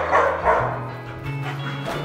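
Several dogs barking in a yard during a household plumbing repair, a run of bow-wow barks with yips and a brief whimper, close and fairly loud, with no speech over them.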